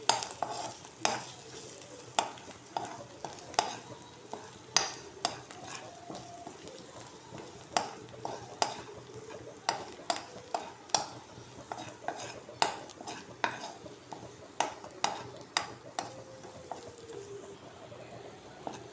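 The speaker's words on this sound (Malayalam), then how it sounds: "എന്നിട്ട് നമുക്കൊന്ന് മിക്സ് ചെയ്യാം എല്ലാം കൂടെ." Crow meat being fried with turmeric in a pan, stirred with a utensil that scrapes and clinks in a steady rhythm against a continuous sizzle. The sound is close and there is no talking.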